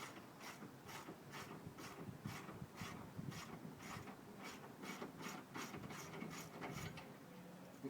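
A socket ratchet clicks in quick repeated bursts while turning screws on a car radiator, faint and close with a steady rhythmic pawl rattle.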